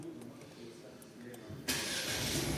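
A 2024 Opel Mokka GS with a 1.2-litre 130 hp petrol engine and eight-speed automatic turns over and catches via its start button, the engine noise jumping abruptly and then holding a steady idle, with a person talking close by.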